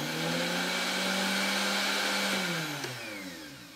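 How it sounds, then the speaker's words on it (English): A kitchen blender powered through a smart switch roars steadily at close range, then winds down as it shuts off, its motor pitch sliding lower over the last second. "Okay, Google, turn on the blender."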